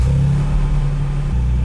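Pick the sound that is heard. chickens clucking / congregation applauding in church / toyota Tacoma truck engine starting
toyota Tacoma truck engine starting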